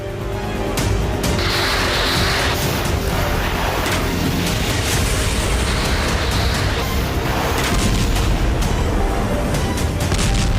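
Explosions during a Ukrainian strike on Russian cities, heard as a dense, loud wash of rumbling booms and crackling blasts running continuously without a break.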